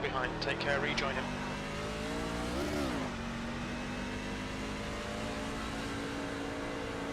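A race car in the iRacing sim racing game holds a steady engine drone with a brief rise and dip in pitch as it shifts, while a voice talks over the first moments.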